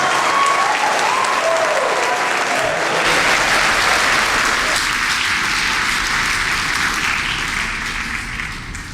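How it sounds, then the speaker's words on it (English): Loud sustained applause from a high school class night audience honouring scholarship students, a continuous wash of clapping that fades slightly at the end. "Give all of those students a big round of applause."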